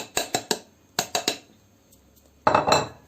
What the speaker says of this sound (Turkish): Hafiften karıştırıyoruz.